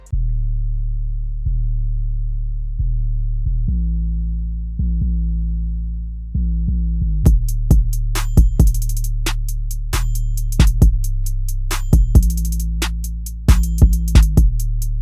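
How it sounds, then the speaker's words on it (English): Deep booming 808 bass notes in a repeating pattern, later joined by crisp hi-hat ticks and sharp snare-like hits. "let's go ahead and take a listen to the final 808 pattern of this video."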